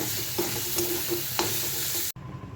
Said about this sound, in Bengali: বানাচ্ছি একটু ডাটা শাক ভাজা